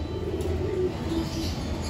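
Pigeons coo continuously close by, low soft throaty warbles layered over one another against a steady background hum.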